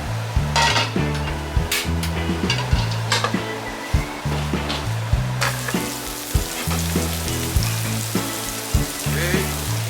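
Yakisoba noodles stir-frying in a frying pan over high flame, a steady loud sizzle with repeated clatter and scraping of the utensil against the pan, no talking.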